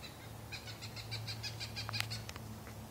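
A Cooper's hawk calls from a cottonwood tree while crows harass it, a series of faint, distant, evenly repeated high cries over steady low rumble, with a few sharper calls near the end.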